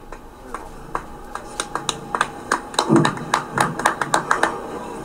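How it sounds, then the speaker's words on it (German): Scattered hand claps from a crowd at a farmers' protest rally in Hannover, a few quick sharp claps building into a short uneven burst before trailing off, fairly close and without talk. "Ihr müsst nicht klatschen, das geht auch ohne."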